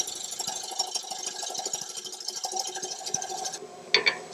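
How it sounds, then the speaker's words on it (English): Gouge shaving the wall of a dried, rough-turned wooden bowl on a lathe, with the bevel rubbing for a smooth cut, giving a close, continuous scraping hiss with a rhythmic rasp that briefly changes near the end. "about halfway up the wall, I can get the nose bevel rubbing, which gives me a much smoother cut"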